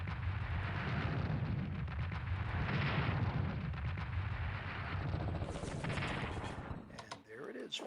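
Dense, continuous rumbling barrage of artillery fire in the WW2 Pacific strategy game Strategic Command, booming steadily with no pauses, then cutting away near the end.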